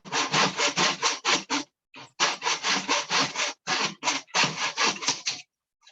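Rhythmic back-and-forth rasping of wood being shaved and sanded for a prop, quick even strokes in several runs with short pauses between, close and fairly loud.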